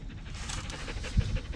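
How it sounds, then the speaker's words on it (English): A dog pants in a workshop in quick, rhythmic breaths close by, with a slight huff near the end and no talking. "Look at that shop dog."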